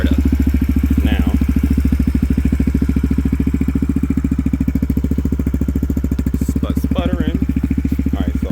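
A Yamaha TTR-125 dirt bike with a big bore kit idles close by, a loud, steady and even rapid thumping putter throughout, with someone talking briefly over it.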